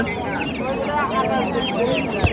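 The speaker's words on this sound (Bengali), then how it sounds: "এখানে অনেক ধরনের হাঁস মুরগির বাচ্চা দেখতে পাচ্ছি" Duck and chicken chicks, including Fayoumi chicks, crowded together at a poultry market; a dense, close chorus of high peeping and chirping with people talking over it.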